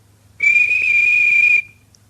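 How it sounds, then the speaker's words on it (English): A train guard's whistle in the Roblox game blows one steady, loud, shrill tone for about a second, alone with no talk over it. "The guard waved his flag and blew his whistle."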